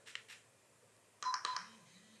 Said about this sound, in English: I've got a double vibrate, a double beep, and the LED is now green.